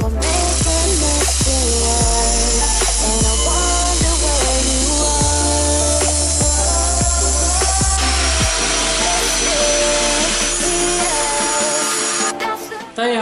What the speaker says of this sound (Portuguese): Eu vou ter que cortar bem aqui onde foi a solda anterior.